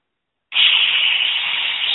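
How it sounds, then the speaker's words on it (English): Cleaner sprayed into a Briggs carburetor during a rebuild: a steady, close aerosol hiss that starts abruptly and runs continuously at even loudness until the end, with no talking. "Spray it out really good."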